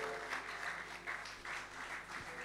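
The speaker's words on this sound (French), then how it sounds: "Est-ce qu'on peut acclamer pour cette parole?" A church congregation at a Sunday celebration service applauds steadily, with dense, even clapping filling the room at moderate distance and no break in the applause.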